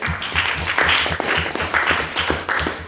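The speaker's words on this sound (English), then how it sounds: "we can give her a round of applause in abstention" A debate-society audience gives a round of applause, rhythmic and fairly loud, with a low thumping pulse beneath the claps throughout.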